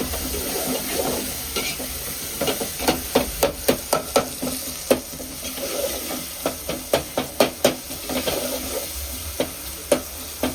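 Onion and tomato masala sautéing for a fish curry: a spatula scrapes and taps the pan in a steady, repeated rhythm over a constant low sizzle, close up, with no voices.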